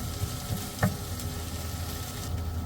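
Bopis, chopped offal, sautéing in a pan with a steady soft sizzle and a brief clink or stir near the start, close and fairly quiet, with no talk.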